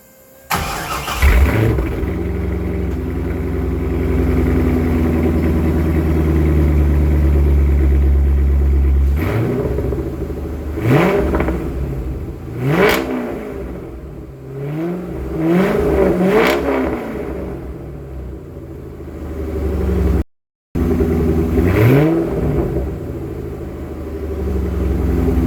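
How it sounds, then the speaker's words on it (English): A C5 Corvette fitted with Borla ATAK mufflers starts with a bark, settles into a deep rumbling idle, then gives a series of sharp throttle blips that rise and fall, loud and close, with no talk. "this is our test now with ATKA borla mufflers versus stock."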